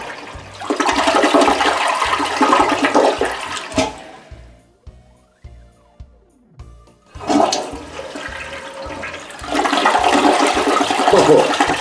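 A toilet treated with a ceramic coating flushes: a loud, close rush of water that fades to quiet gurgles and drips, then surges again as the bowl refills, with no talking.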